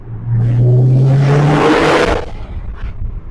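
A tuned Stage 4.25 740 bhp R35 Nissan GT-R engine roars loudly and rises, then falls away with a rumbling blip and crackle as it downshifts, echoing inside a tunnel.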